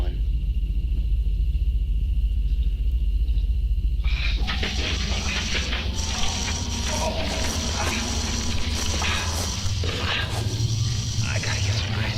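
A storm in the action film Dying Space, with a low steady background that suddenly swells into a broad, loud, rushing rumble that holds for the rest of the scene.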